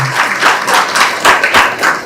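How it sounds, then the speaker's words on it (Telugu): An audience at a public district meeting applauds, with steady, dense clapping from a crowd that rises and falls in waves over about two seconds, fairly loud and close, with no speech over it. "ఒకసారి చప్పట్ల ద్వారా మీ అందరి ఆమోదాన్ని"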